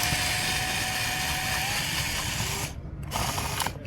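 A 10mm bolt is backed out of a Tesla Model S seat back with a ratchet. It gives a close, continuous clicking that stops near the end, leaving a brief quieter pause before a short burst resumes.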